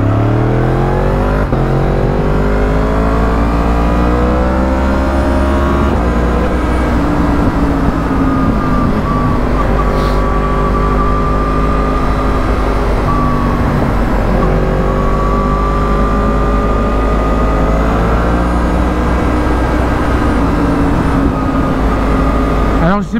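A vehicle engine with its exhaust baffle refitted drones and revs steadily at close range, loud and continuous throughout.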